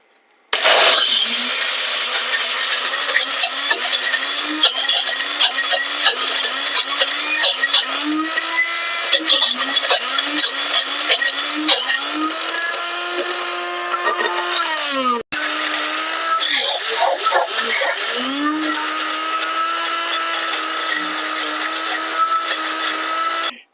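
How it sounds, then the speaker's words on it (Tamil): A bullet mixer grinding roasted peanut chutney, a loud, close, continuous whirring motor roar with rattling grit, cutting out briefly midway and then restarting for a second long burst. "புல்லட் மிக்சியில தான் அரைக்க போறோம் பாருங்க"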